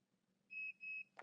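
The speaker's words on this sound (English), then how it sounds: "After 5 seconds, it will beep at you" An MTI 403/461 medical exam chair gives two steady electronic beeps after a position is programmed, clear against a quiet room, followed by a short soft click.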